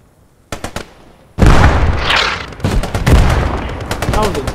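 Gunfire in the World War II shooter Post Scriptum during the Arnhem bridge battle: a few sharp distant shots, then a loud heavy blast followed by further cracking shots and rumbling echoes, no talk.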